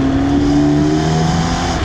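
A 2021 BMW 430i engine runs close and loud with a strong, smooth droning hum and steady harmonic tones, briefly held at revs with no talking.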